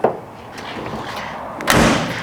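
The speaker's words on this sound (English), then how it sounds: "That door closes nice and easy." The door of a 1969 Chevrolet Camaro swings shut with one solid, fairly loud close near the end, after a brief low rustle.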